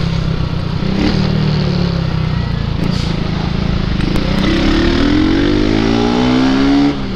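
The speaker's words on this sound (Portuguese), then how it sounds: "ele tá acelerando" BMW Z4 sports car engine revving and accelerating hard, a loud, steady roar close by that rises in pitch toward the end before cutting off.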